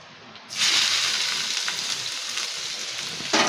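Chopped ash gourd drops into hot mustard oil with nigella seeds and bursts into a loud, steady sizzle that holds close and even, with a fresh surge of hissing near the end.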